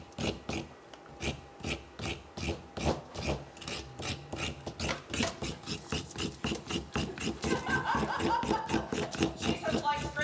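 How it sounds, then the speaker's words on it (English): A knife held at 90 degrees to the wood shaves it with rapid, rhythmic scraping strokes, close and continuous, while people talk and laugh nearby. "We're not carving, we're shaving it."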